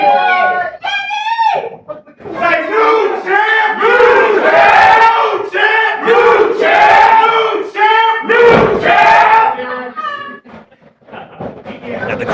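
A loud, packed crowd at an Alley Fights championship fight roars and shouts nonstop, many voices overlapping in rising and falling waves of cheering close by.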